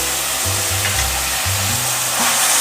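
Carrots, peas and green onion fry in a hot pan with a loud close sizzle and some stirring scrapes and low thumps, and no one speaks.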